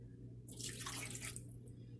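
A glass of water is poured into the pan holding a mutton leg raan roast. The splash is brief and faint and sits over a low steady background hum.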